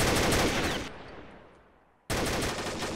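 Gunfire in the online shooter Combat Arms comes as a loud rapid automatic burst that cuts off, leaves a fading tail of echo, then resumes abruptly at full strength.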